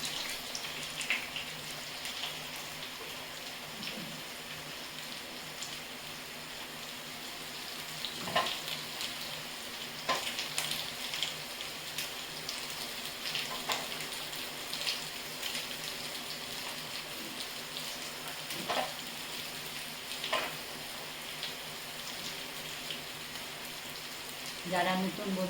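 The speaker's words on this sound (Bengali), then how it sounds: "ঘিটা গরম হয়েছে, এবার আমি জিরে আর যে ছোট এলাচ রেখেছি এটা ফোড়ন দিলাম।" Cumin seeds and small green cardamom sizzle in hot ghee in a pan, a steady crackling fry close up with scattered pops and stirring clinks, continuing throughout with no talk.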